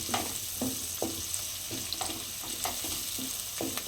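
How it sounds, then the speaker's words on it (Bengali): Onions frying in a pan at home, a steady close sizzle with repeated stirring scrapes in a loose rhythm, no voices. "এখন পেঁয়াজ ভাজার পর্ব চলছে"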